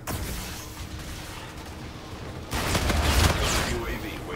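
Gunfire from the video game Call of Duty: Infinite Warfare, fired from the hip: a dense, continuous rattle of shots and impacts that swells louder and heavier halfway through.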